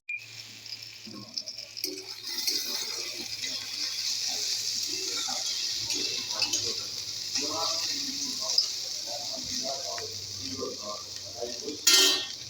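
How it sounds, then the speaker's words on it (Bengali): Snake gourd fries in a pan with a steady, close hiss and sizzle, while someone talks quietly over it and a brief louder burst of sizzle comes near the end. "চিচিঙে ভাজাটা মোটামুটি হয়ে এসছে আর একটুখানি বাকি আছে"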